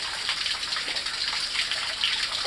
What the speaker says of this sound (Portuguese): É muita água, meu.